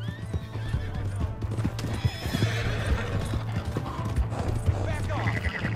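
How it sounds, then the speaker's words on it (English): A horse in Red Dead Redemption 2 gallops in a quick, steady hoofbeat rhythm and lets out a whinny partway through, over game sound and shouting. "Hey, that's my horse!"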